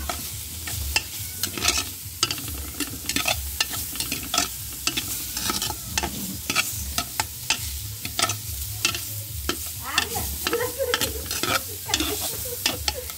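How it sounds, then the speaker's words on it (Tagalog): Meat sizzles in a hot pan as it is sautéed to render its fat, with steady frying crackle and frequent sharp scrapes and clacks from stirring, close and continuous. "Ito lang, igisa ko para lumabas yung mantika niya."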